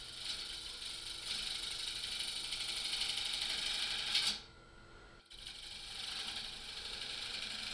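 A wood lathe that has gone out of level runs while turning a bowl, a steady mechanical whir with a rattling buzz, briefly dropping in pitch and level before resuming.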